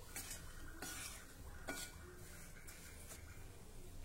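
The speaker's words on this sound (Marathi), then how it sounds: "एक वेळा सर्व साहित्य नीट एकत्र करून घेऊ।" Spoon stirring edible gum, jaggery and other sweet ingredients together in a pan for gum-jaggery squares, soft continuous scraping with light metallic clinks, faint and close.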